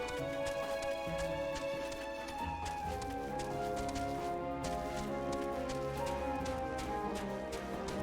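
A chocobo mount trots along in Final Fantasy XIV, its soft rhythmic footfalls tapping steadily beneath layered game music that carries throughout.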